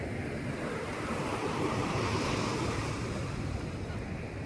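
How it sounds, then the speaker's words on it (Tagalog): Rough sea waves at Dubai Kite Beach make a steady, dense roar of surf mixed with gusting wind buffeting the microphone, continuous and fairly close. "Nandito na naman tayo sa tabing dagat. Kaya lang masyadong maalon."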